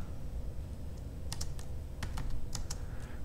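Computer keys clatter in a quick irregular burst of about a dozen crisp clicks, close and fairly loud over a low steady room hum, as a Ctrl C shortcut is pressed to stop a running program.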